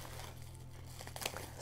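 An item packed in bubble wrap being unwrapped during an unboxing, with soft continuous crinkling and a brief sharper crackle near the end, close and quiet.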